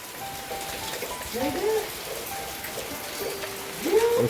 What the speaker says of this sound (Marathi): मस्त अशी पावसाची सकाळपासून सुरुवात आहे